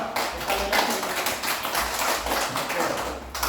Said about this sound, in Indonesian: Ya, kita tepuk tangan buat kelompok 1.